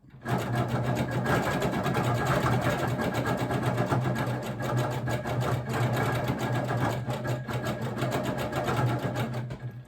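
A sewing machine quilting ice-dyed fabric guided with a ruler hums continuously at a steady, fast pace, close and prominent from start to finish.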